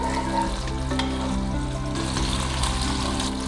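Mutton pieces with whole garlic cloves frying in a pot, a steady dense sizzle with a constant low hum underneath and no voices.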